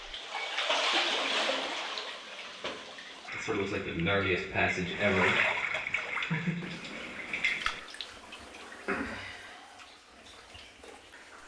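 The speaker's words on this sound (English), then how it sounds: "Once again, I follow an icy cold underground river." An icy cold underground river flows through a cave passage, a steady rushing and splashing wash of water that fills the space, with someone talking over it partway through.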